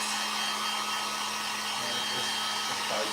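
A hair dryer blows on fresh paint on a craft rag ghost, a loud steady whooshing hum held close and unbroken, with no talk.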